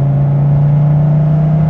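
Steady, loud droning hum of a Dodge Viper TA 2.0 V10 engine heard from inside the cabin, a constant low tone held without pauses.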